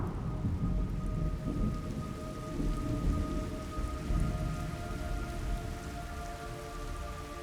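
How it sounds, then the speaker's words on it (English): Steady rain pours down with a low rumble of thunder rolling underneath in the video game Metal Gear Solid Delta: Snake Eater, a constant wash of sound with a faint tonal hum. "It's raining blood."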